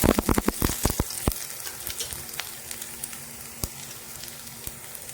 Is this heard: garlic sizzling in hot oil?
yes